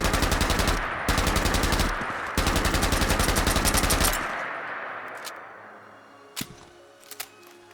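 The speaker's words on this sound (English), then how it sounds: "First, there's the iconic Bren gun." A Bren gun in a Fallout 4 mod fires loud, rapid automatic bursts: three long strings of shots separated by short pauses, then a ringing echo tail fading out, followed by a couple of sharp mechanical clicks.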